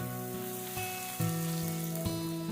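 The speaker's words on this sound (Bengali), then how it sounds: "আমি দুটো পেঁয়াজ কেটে কুচি করে রেখেছি সেটা এর মধ্যে দিয়ে ভালো করে একটুখানি ভেজে নিচ্ছি" Chopped onions sizzle in hot oil with whole garam masala (cardamom, cinnamon, cloves) and two dried red chillies, a steady close crackle and hiss with a few louder pops and stirring knocks.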